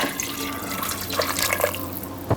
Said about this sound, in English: pour 4 cups of water over the noodles and do not stir this